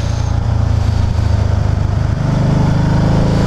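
A 2014 Can-Am Spyder Roadster RT's Rotax V-twin engine runs with a loud, close, throbbing low rumble that pulses evenly for a few seconds, with no talking.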